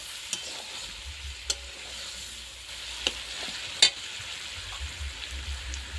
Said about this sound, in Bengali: বন্ধুরা আমি পাঁচ মিনিট মতো এভাবে লবণ হলুদ দিয়ে কষিয়ে নিলাম